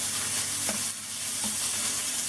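Shrimp sizzle steadily in a hot pan, a continuous close frying hiss with a couple of brief utensil clicks and stirs, no voices.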